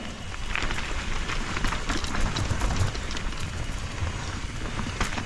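Steady rain pattering on a surface outdoors at the Kungsbygget track in wet weather, a continuous dense hiss with scattered drop impacts throughout, no voices.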